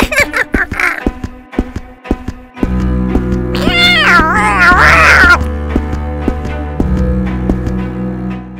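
A cat meows several times, close and loud, with a drawn-out wavering yowl in the middle, alongside light tapping sounds and a sustained tonal background.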